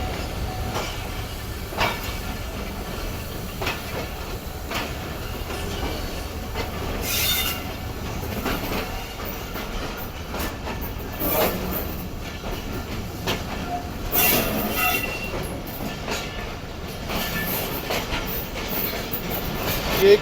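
Hazara Express train rolls slowly into the platform at Rohri Junction with rumbling wheels, clacking rail joints, intermittent high metallic wheel squeals and bursts of hiss, heard steadily at close range throughout.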